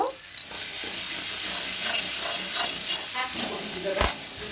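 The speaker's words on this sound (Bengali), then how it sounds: "ভালো করে মশলাটাকে মিশিয়ে নিব।" Spice paste with ground cashew is stirred in a hot frying pan, a steady loud sizzle with scraping strokes of the spoon and a sharp clack of utensil against the pan near the end.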